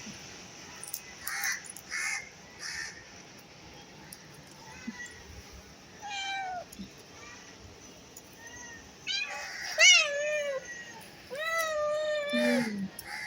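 Several kittens meowing at home, their short high cries scattered and overlapping through the stretch, with louder bursts near the end and a faint background hum.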